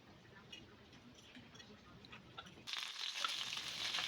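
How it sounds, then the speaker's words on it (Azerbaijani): Finely chopped small onions fry in 60 grams of ghee, crackling softly at first, then the sizzle jumps to a louder, brighter hiss partway through, with no voices. "60 qram çörək yağında 2 ədəd kiçik xırda doğranmış soğanı qovururam."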